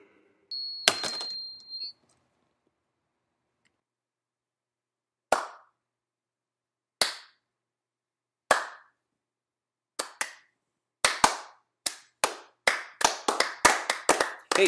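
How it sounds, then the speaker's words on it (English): Slow clapping from an audience at a stand-up comedy show, starting with a few isolated claps spaced seconds apart, then speeding up and thickening as more hands join in a building rhythm. "Hey, stop that slow clapping shit."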